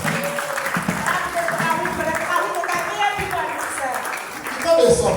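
Worshippers at a thanksgiving harvest church service clap together in a long, busy stretch, with a preacher's voice and crowd noise running through it and the clapping swelling louder near the end.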